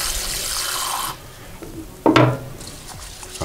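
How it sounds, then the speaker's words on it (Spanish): Water added to sushi rice for washing: a hiss of running water at first, then a short, louder splash into the rice after a pause, close by. "Vamos a colocarle un poco de agua."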